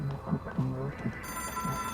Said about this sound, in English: Oh, there's a phone ringing. Somewhere. Up there.